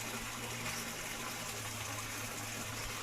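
Water pours steadily into a pot of freshwater snails being cooked, making a continuous broadband gushing rush that stays fairly quiet and unchanged throughout, with no voices.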